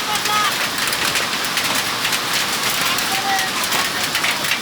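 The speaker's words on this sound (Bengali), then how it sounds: "এই মুহূর্তে শাহবাগে প্রচুর শিলাবৃষ্টি হচ্ছে" Heavy rain and hail pound down in a city street in Shahbag, Dhaka, a loud dense roar of hammering drops with no letup throughout.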